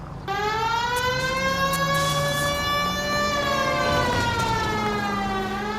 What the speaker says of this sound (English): We've got a siren for a reason, you know.